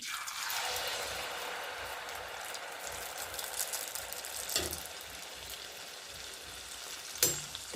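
Neyyappam batter is ladled into hot oil and fries with a soft, continuous crackle and sizzle. It is fairly faint, and a couple of sharp utensil clicks land near the end.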